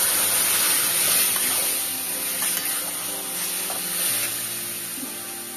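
Boiled dal with turmeric, salt and chilli poured into a hot pan, a steady loud sizzle and hiss that slowly fades a little over several seconds.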